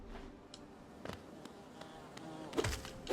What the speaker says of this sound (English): Well played, Giant Bee, well played.